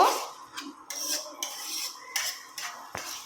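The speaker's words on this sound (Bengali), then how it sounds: "তো চিংড়ি মাছটা এই সবজির সঙ্গে ভালো করে নেড়ে নেব।" A utensil stirs fried shrimp through vegetables in a cooking pan for shrimp pasta, making a series of sharp metallic scrapes and clinks about every half second, close and clear with no talking.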